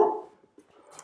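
A dog lets out one short, loud bark up close, followed by a faint whimper and some soft rustling in a quiet indoor room.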